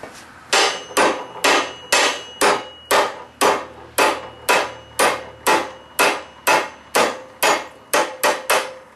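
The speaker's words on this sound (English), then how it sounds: "I wanted a little sharper bend than that, so I need a hammer." Repeated hammer blows bending heated metal stock into tongs at a forge, about sixteen sharp, loud ringing strikes in a steady rhythm, close and alone with no talking.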